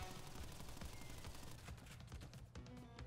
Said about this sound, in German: Der schießt 24/7 mit Kugeln, ja.